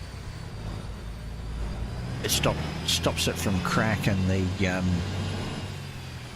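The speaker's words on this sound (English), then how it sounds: "you can hear my vacuum cleaner in the background" A household vacuum cleaner drones steadily in the background, a constant low whir beneath a person talking nearby.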